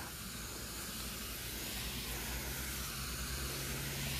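A sprayer releases fungicide onto green bean plants in a garden in a steady, close, continuous hiss that holds evenly without pause or talk.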